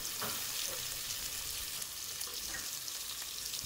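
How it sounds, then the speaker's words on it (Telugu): Sliced onions fry in hot oil for Andhra-style gongura chicken, a steady close sizzle with occasional stirring scrapes and no voices. "ఈ ఆనియన్స్ని మంచిగా కొంచెం ఫ్రై చేసుకోవాలి."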